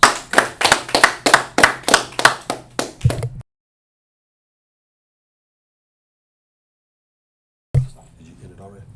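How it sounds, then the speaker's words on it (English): A congregation at a Sabbath service claps in quick, steady rhythm, about a dozen sharp, close claps, before sudden silence. A brief bit of talk follows at the end. "Let's clap it up."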